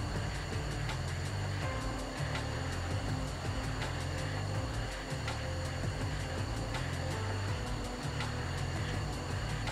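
F-15C jet engine in Falcon BMS spooling up during a ramp start, a steady loud whine and roar with layered tonal hums, continuous throughout with no talk.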